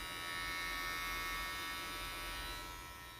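Ovlux electric hair clippers run with a steady, close electric buzz and a smooth, even tone, holding at a constant level before easing off slightly near the end.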